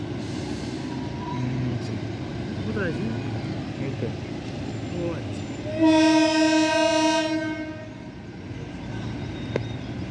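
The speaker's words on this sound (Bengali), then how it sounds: "Toy train." Outdoor ambience near Dali Monastery in Darjeeling, where the toy train sounds one loud, bright horn blast of roughly one and a half seconds midway through, set against steady background rumble and distant voices.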